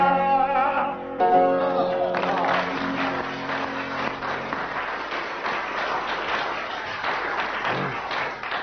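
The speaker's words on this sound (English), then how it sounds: "the audience applauded for 25 seconds" A studio audience at a comedy panel show applauds at length, starting under a sung musical phrase and then growing into a full, steady roar of clapping that carries on alone to the end.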